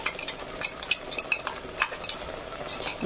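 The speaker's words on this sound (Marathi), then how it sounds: "छानपैकी असं लालसर तेल सुटीपर्यंत फ्राय करून घ्यायचं।" Red chili powder stirred and fried in oil for paneer tikka masala, with a spoon scraping and clinking against the pan in quick irregular strokes over a soft, steady sizzle, close and moderately loud.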